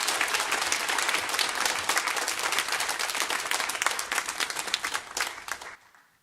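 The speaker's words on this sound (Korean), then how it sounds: "我们热烈的掌声欢迎他为我们讲话语。" Sustained applause from a church congregation welcoming a missionary speaker, dense and steady clapping that fades out at the end.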